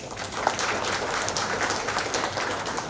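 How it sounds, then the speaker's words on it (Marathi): Audience applause at a Marathi film event, a dense, steady wash of clapping that fills the whole stretch at an even level, with no voices standing out. "आपण जोरदार टाळ्या वाजवूया"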